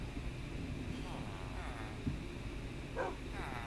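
Dogs in the Minecraft video game give a few soft yips and whimpers over steady game background noise, with speech-like sounds around them.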